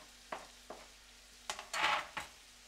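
Garlic, chicken and other ingredients hit a pan and are mixed in, giving a few soft clicks and scrapes, then one brief louder burst of sizzling, all fairly quiet.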